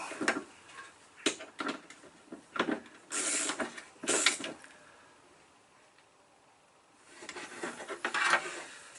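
Socket wrench tightening a radiator hose clip on a car, quiet scattered clicking and ratcheting bursts close by, with pauses between turns.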